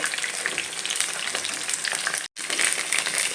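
Chicken pieces fry in oil while being slowly turned, making a dense, close crackling sizzle that stays steady throughout, apart from one brief dropout.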